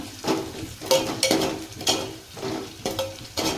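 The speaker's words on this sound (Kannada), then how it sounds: "ಇದು ನೋಡಿರಿ ಚೆನ್ನಾಗಿ ಫ್ರೈ ಆಗಕತ್ತೈತೆ" Onions sizzle in a pan for idli upma while a spatula stirs them, giving rhythmic scraping strokes over a steady frying hiss, close and clear.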